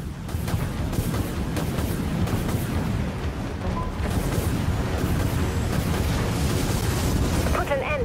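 Ship weapons in the naval combat game Dreadnought fire in a dense, sustained barrage of booms and rumbling blasts, loud and continuous throughout.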